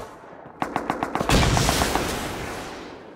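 Automatic gunfire in the survival video game Rust: a quick burst of about eight evenly spaced shots, then a louder, denser volley that fades into a lingering rumble.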